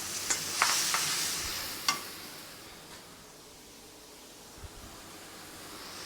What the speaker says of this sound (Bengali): মশলাটাই দিয়ে দিচ্ছি মশলা কষিয়ে নিয়ে তারপরে মাংসটা দিয়ে দেব